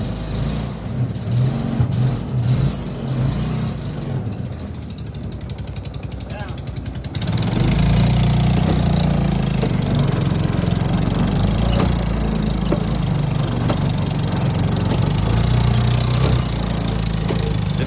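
Engine of a Kawasaki side-by-side utility vehicle running steadily and loud at close range, its rough idle picking up and growing louder partway through, with a person talking over it.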